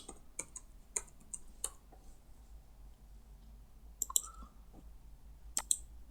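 A computer mouse clicks a few times, sharp isolated ticks scattered across a quiet room with faint background hum and no talking.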